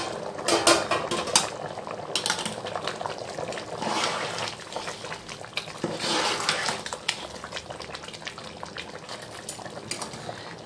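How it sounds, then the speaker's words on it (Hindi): Water bubbling at a steady boil in a pot over a high flame for mutton tahari, with constant crackling and popping, close and moderately loud, continuing without pause. "चलिए इसमें अच्छे से उबाल शुरू हो गया"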